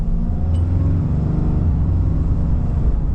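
A 2025 RAM 2500 HD pickup truck accelerates at full throttle from about 50 km/h on a country road, a loud, steady, deep engine drone and cabin rumble heard from inside.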